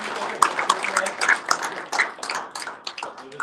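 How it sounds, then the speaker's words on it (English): An audience at a Founders Live startup pitch event in Houston claps for the presenters: a short round of close, crisp claps at an uneven rhythm, with some faint voices underneath. "Let's give them a round of applause"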